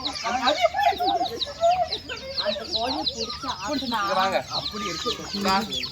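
Chickens cluck and squawk close by, several birds at once, while people talk over them.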